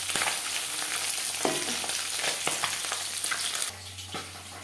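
Bele fish frying in oil, a close, steady sizzling hiss with occasional crackles and light spatter, dropping suddenly to a quieter sizzle near the end.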